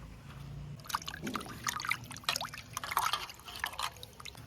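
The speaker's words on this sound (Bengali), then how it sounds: "এই মাছগুলো কাটা হয়ে গেছে, এবার আমি ধুয়ে নেব।" Cut fresh fish are washed by hand in water, with close, uneven splashing and dripping that grows busier over a few seconds and no talk.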